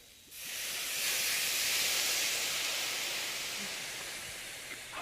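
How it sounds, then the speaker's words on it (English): White wine poured into a hot pan to deglaze it lets out a loud, sustained hissing sizzle of steam that swells quickly and then slowly fades. "we're going to get a little bit of white wine, and we're going to deglaze the pan"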